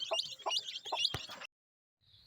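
Hens and small chicks cluck in a coop, a quick run of several sharp, high clucks and peeps close by, then a brief silence and a faint chirp at the end.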